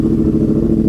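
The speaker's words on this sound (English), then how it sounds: "Yamaha R1 with a slip-on Toce exhaust." A 2014 Yamaha R1 sport bike with a Toce slip-on exhaust and no baffles rumbles in a loud, steady, close-up drone for about a second.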